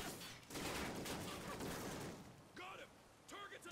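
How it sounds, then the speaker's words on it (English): Gunfire rattles in Call of Duty: Ghosts, a dense burst of rapid shots in the first half, followed by someone talking over it. "I just thought someone from behind me was shooting me"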